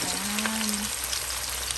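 Chicken sautéing in a pan for a Filipino chicken curry in coconut milk: a short, steady burst of broadband frying hiss, moderately loud and close, with no voices.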